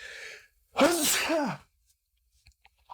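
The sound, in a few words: sneeze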